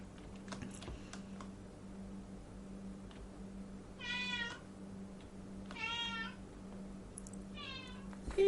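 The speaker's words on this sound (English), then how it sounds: "Shut up, cat." A cat meows three times in drawn-out, wavering calls spaced a couple of seconds apart, sounding at moderate distance over steady computer keyboard typing and a low background hum.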